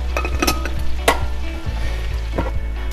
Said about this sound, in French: Ça fait une bonne demi-heure que ma viande est en train de cuire dans la graisse.